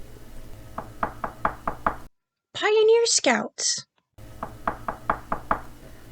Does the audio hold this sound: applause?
no